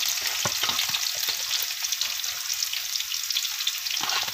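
Curry leaves and ginger-garlic paste sautéing in hot oil for egg kurma, with a bright, steady hiss of frying and occasional soft utensil taps near the start and end.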